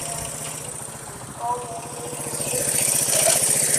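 A 1973 Honda CB125 motorcycle engine, kick-started, idles with a steady, close putter that swells slightly louder toward the end.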